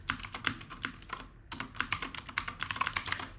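Rapid computer keyboard typing while code is written, a steady stream of close, crisp keystrokes with a brief pause partway through, heard alone without any voice.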